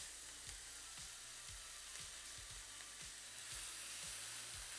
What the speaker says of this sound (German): Jetzt kommt hier unsere Butter rein. Gute Butter. Und da jetzt ein bisschen aufpassen, wie gesagt, dass die nicht verbrennt.